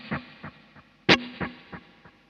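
Electric guitar runs through delay and hall reverb pedals together: one plucked note, then a stronger second one, each followed by a string of softer echoes that fade at even intervals into a spacious tail, with no talking.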